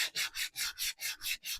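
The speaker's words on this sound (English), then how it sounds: "so now I'm going to go in and sand it" Sandpaper rubbed by hand over a painted thrift-store furniture piece finished in milk paint, eight steady back-and-forth strokes in an even rhythm, close and crisp with no talking.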